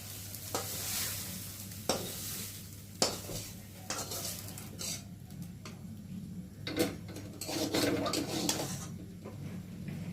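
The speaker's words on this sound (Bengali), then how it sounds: "তেলে এখন নুন আর হলুদ দিয়ে ভেজে নিচ্ছি" Soybean chunks fry in oil with salt and turmeric, giving a soft, steady sizzle broken by sharp scraping clicks of a spatula stirring the pan at irregular intervals.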